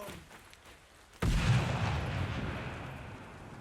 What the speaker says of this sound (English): he's throwing a grenade